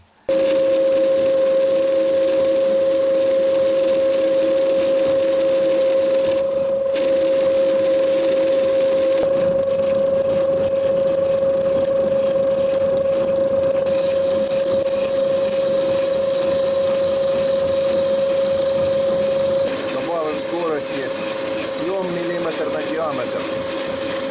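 A lathe turning a groove in a bolt runs with a steady machine whine and hum, a cutting tone shifting partway through, with scraping chatter near the end.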